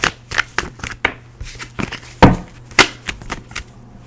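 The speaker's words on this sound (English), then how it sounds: "Bear with me as I shuffle these cards," Tarot cards are shuffled in a series of crisp riffles and taps, irregular and close, with a steady low hum underneath.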